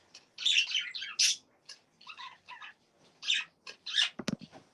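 Two pet birds chatter in quick, close bursts of chirps and squawks, one scolding the other, with brief gaps and a sharp knock near the end; no one speaks.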